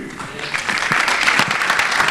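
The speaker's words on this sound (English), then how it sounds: "A big round of applause." Audience applause at a racing session event in a hotel ballroom, a steady, fairly close wash of clapping that builds slightly over a couple of seconds, with faint voices underneath.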